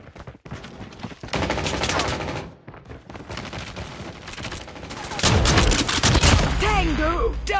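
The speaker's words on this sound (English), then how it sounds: "Sentry gun ready for deployment." Automatic sentry gun fire in a video game, loud sustained bursts of rapid shots with brief pauses and fluctuating intensity, with game voice callouts mixed in.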